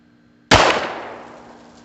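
A single sharp report from a Beretta U22 Neos .22 pistol fired at a range, a loud close crack with a ringing tail that decays over more than a second, heard alone.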